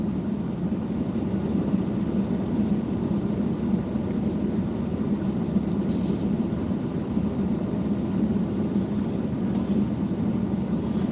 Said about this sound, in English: Here comes the brush engine.